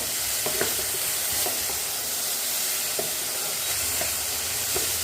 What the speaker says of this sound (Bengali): সব কিছু নেড়ে চেড়ে ভালো করে ফুলকপির সাথে মশলাগুলোকে ভেজে নেব।